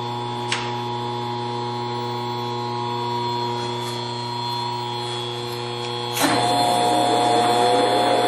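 A Mori Seiki machine spindle hums steadily with strong tonal whine, then near the end a brief clank as the speed changes and the pitch lifts into a louder, busier running tone; no talk.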